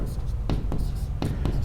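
Chalk or marker strokes on a board during an environmental engineering lecture on fluoridation, a few short scratchy bursts spaced irregularly over a steady low hum.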